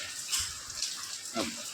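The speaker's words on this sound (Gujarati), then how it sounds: "વરસાદ એક ધારો નોન સ્ટોપ કાલ રાતનો વરસાદ ચાલુ છે." Heavy rain hisses steadily without pause, a dense, continuous wash of sound.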